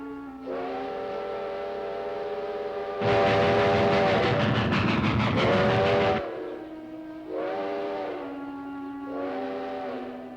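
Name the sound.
train passing with whistle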